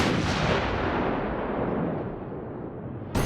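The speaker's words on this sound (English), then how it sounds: "after his escape, the island is engulfed in a giant explosion" Giant explosion engulfing an island at the climax of the video game Resident Evil 4: a loud, sustained roaring blast with deep rumbling that slowly thins and fades, then a fresh burst right at the end.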